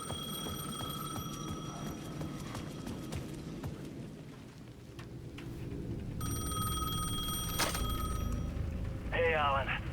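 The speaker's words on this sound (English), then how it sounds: "The payphone at the edge of the plaza was ringing again." A payphone rings in the video game Alan Wake 2, sounding in two separate bursts of bright bell tones over low rumbling game ambience, with a short tonal chirp near the end.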